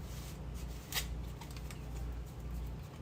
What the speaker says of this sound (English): Did you shuffle when he was after and he was in there? Yeah, just shuffled.